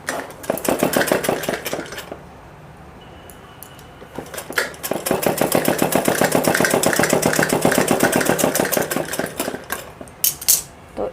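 A sewing machine runs in rapid rhythmic bursts of stitching on a suit for a teenage girl, with a steady mechanical clatter, a short pause midway and then a longer continuous run, close and loud.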